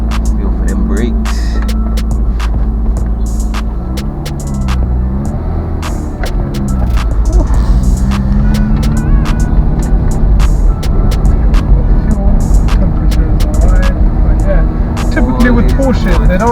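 Porsche Boxster S, over ten years old, pulling away: a loud, low engine hum and throb that swells as the car gets moving, with intermittent clicks and knocks throughout.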